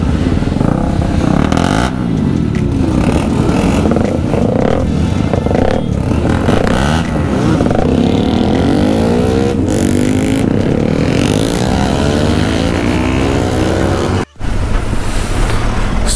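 Sport motorcycles including a Kawasaki Z900 and a Suzuki Hayabusa riding together on a Sunday breakfast ride in Punjab, a loud continuous engine drone with rising and falling revs throughout, nearby and dominant, briefly cutting out near the end.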